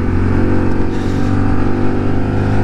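A Lexmoto RSS Street 125cc motorcycle is ridden at a steady pace, its small single engine making a loud, continuous buzzing drone with layered harmonics and a slight swell in pitch partway through.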